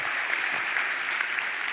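Audience clapping at a rhythm and blues music session, a dense continuous patter of many hands close up with no one talking over it.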